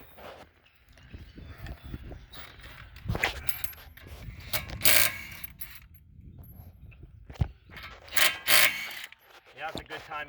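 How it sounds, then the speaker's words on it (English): Ratchet clicking on the lug nuts of a 2017 Honda Civic front wheel, with irregular bursts of metallic clatter and handling noises, moderately close. "Next, I'm going to take off the wheel."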